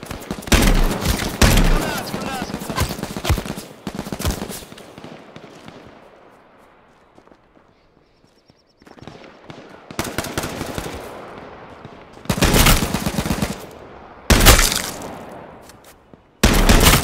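Rapid automatic gunfire from a shooter video game crackles in loud repeated bursts, separated by quieter gaps, with faint voices in the background.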